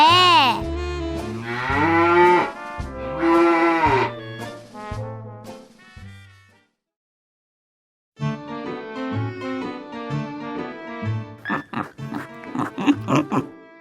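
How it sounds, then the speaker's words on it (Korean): A cow and a calf moo in long, drawn-out calls, several loud ones in a row, then a brief silence before a second burst of lowing with higher, bleating tones. "엄마 소는 아기 찾아 음메 음메"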